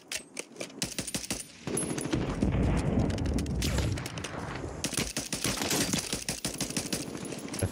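Rapid video game gunfire from Kong and Sidewinder weapons crackles in dense automatic bursts with brief pauses, steady and close throughout, with no talking.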